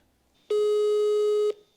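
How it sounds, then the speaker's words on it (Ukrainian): A telephone call tone sounds once as a single steady, clear electronic tone lasting about a second, loud and alone with no voices. "Телефонуємо Олені Іванівні."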